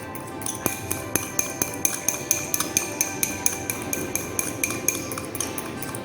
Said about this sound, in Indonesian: Lalu kita aduk hingga larutan menjadi homogen.